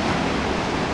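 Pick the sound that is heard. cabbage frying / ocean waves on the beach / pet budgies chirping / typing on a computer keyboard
ocean waves on the beach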